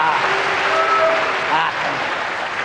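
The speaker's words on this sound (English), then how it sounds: "Give us a clap, boys and girls." Boys and girls in a pantomime audience clap along, a brief dense patter of many small hands with voices audible over it.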